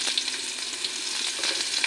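Chopped onion frying in mustard oil in a home kitchen, cooked for a jute-leaf and red lentil dish, gives a steady, close, bright crackling sizzle throughout, with no voices.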